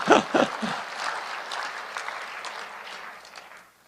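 A brief round of clapping from an audience, starting with a few loud claps and then thinning into a soft patter that fades away.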